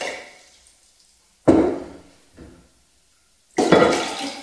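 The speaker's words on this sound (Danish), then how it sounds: "så jeg hælder lige lidt af vandet her" Water from a 2-litre container poured off while measuring 1.5 litres for lemon kefir, heard as three separate bursts of splashing, close and fairly loud, with quiet gaps between them.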